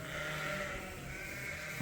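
Dorset sheep bleating on a farm, one short drawn-out bleat, fairly faint, heard alone.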